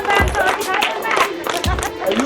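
An audience claps on command during a street magic-comedy routine, bursts of applause mixed with loud crowd chatter and a voice talking over it.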